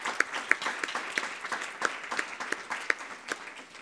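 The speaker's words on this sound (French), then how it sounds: "je pense vraiment on peut les applaudir" A modest audience at a closing session of a December meeting in Lille applauds, with sparse, distinct hand claps in an uneven rhythm, moderately close and not very loud, and no talking over them.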